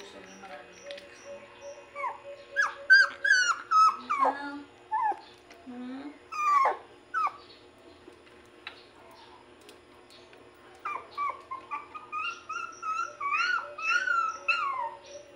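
A puppy whimpering and yipping in a series of high, short cries and whines, fairly close and loud, with a quiet pause partway through before the whimpers return.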